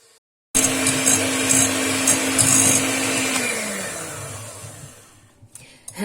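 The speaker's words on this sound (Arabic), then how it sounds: "غادي نطربو مزيان بالطراب الكهربائي" An electric mixer whips sponge cake batter, starting abruptly from silence with a steady whining hum, then dropping in pitch and winding down toward the end.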